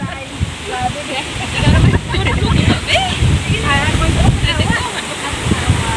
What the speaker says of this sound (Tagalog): ang lakas ng simoy ng hangin